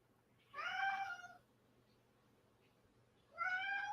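A house cat gives two clear, drawn-out meows about three seconds apart, close and fairly loud against a quiet room hum.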